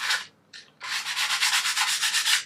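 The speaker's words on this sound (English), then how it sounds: "This time just a little light sanding." Light sanding of a burnt wooden guitar body, close and steady: a brief stroke, a pause, then a run of even back-and-forth rasping strokes in a regular rhythm, with no talk.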